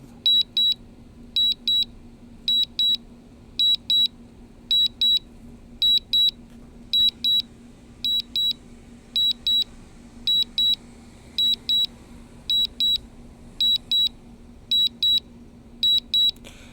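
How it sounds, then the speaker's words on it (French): Short double beeps repeat steadily about once a second, thin and high-pitched, over a constant low hum: a DJI Mavic Mini drone's return-to-home warning. "désolé pour le bip bip parce que c'est ça qui est ça un RTH"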